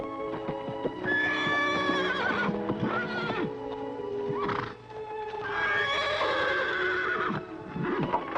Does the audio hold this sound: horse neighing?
yes